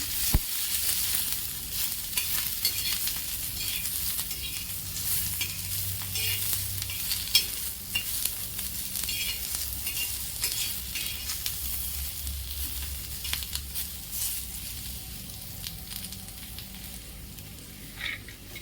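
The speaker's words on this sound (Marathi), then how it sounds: "त्यात खोबरं घालू ते पण थोडं कांद्यासोबतच परतून घेऊ" Onion and grated coconut sautéing together in a pan for butter chicken, a continuous close sizzle broken by frequent scraping and clinking stirs that runs steadily with no talking.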